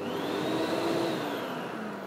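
A carpet shampooer runs steadily close by, giving a loud, continuous motor whir with a sustained whine that drifts slightly in pitch, with no voices.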